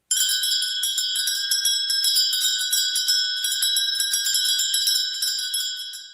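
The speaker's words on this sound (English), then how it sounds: "hear the ringing of bells while they do their Christmas shopping" Salvation Army Christmas bell ringing during the holiday shopping season, a handbell shaken rapidly and continuously in a bright, jangling rhythm that fades slightly at the end.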